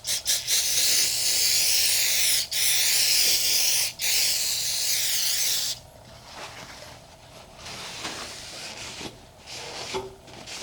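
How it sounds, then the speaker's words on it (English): A can of brake cleaner sprays onto metal to strip layout fluid, a loud close hiss broken by two brief pauses, then quieter rubbing and handling sounds. "Take some brake clean and get the layout fluid off."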